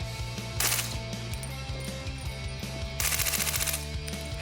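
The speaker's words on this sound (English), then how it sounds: "It is noiseless even when delivering point bursts in automatic fire mode." Suppressed AS 9 mm special assault rifle firing automatic bursts: a steady mechanical clatter of rapid, fairly soft reports with two louder burst passages, no talk.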